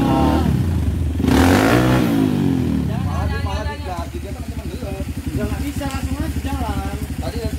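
A trail motorcycle revs hard at a river crossing on an off-road trail ride. A loud burst is followed by rising, wavering engine sweeps as it accelerates, close and rough.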